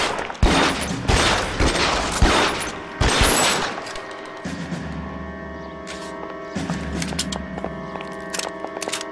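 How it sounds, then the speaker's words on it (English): M1 Garand rifle fire in the crime game L.A. Noire: several loud, sharp shots packed into the first few seconds, then quieter mechanical clatter and a steady hum with a few softer cracks. "it's a Garand that I'm using at the moment"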